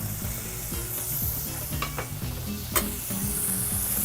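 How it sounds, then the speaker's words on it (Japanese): Garlic and bacon frying in duck fat in a single pot, a steady close sizzle with scraping stir strokes and a sharp utensil clink near the end. "取り出したこの鴨の油をちょっと戻していただいて、ちょっとニンニクと、香り付けのベーコン"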